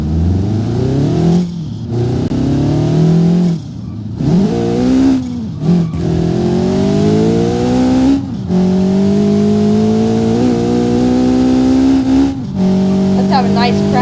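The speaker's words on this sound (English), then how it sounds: "Just listen to that engine sound." The modified CJD Special car engine in BeamNG.Drive revs hard through repeated rising gear pulls, each climb broken by brief shift gaps, loud and close throughout.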